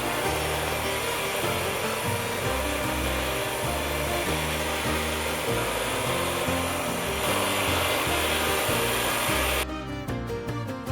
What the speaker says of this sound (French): Pour les bords épais, on va commencer par les passer à la ponceuse à bande